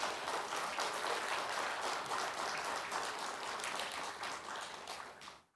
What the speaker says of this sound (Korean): 후보를 위해서 큰 박수 부탁드립니다.